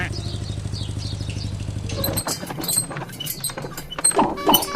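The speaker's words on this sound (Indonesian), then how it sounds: "Ada motor kayak keong pelan banget." A motorcycle engine putters at low, even revs, then gives way to clattering knocks and scattered mechanical noise.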